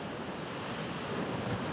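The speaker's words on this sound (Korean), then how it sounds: "지금도 거친 파도 소리가 잘 들리네요" Rough ocean waves roar steadily in a continuous wash of surf, with wind buffeting the microphone throughout.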